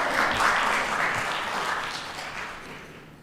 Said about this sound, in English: go ahead and clap. I could use a clap.